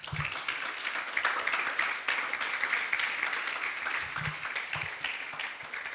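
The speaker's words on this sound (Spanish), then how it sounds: "Dale un aplauso." A church congregation applauds during a youth sermon, a fairly faint, continuous patter of clapping heard from some distance, with a few low voice murmurs mixed in.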